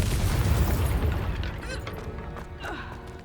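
Confringo fire spell in Hogwarts Legacy blasting at a poacher camp, one heavy boom that rolls into crackling debris and fades over a few seconds, with faint chirping effects trailing behind.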